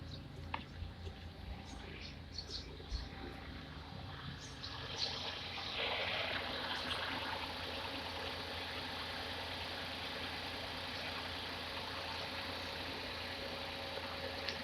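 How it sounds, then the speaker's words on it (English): Hyundai Eon car engine idling outdoors after a spark plug replacement, a low steady rumble with faint ticking, picking up slightly toward the middle and holding a constant drone. "so let's turn on the engine"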